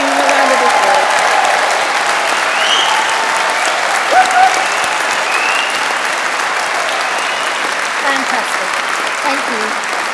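Graduates and guests applaud at a London degree ceremony, a steady roar of many hands clapping that fills the room at even loudness for about ten seconds, with faint voices mixed in.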